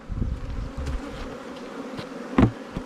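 Honey bees at an open hive being closed with a crown board and roof, a low buzzing drone close by, with a few soft knocks and bumps of equipment.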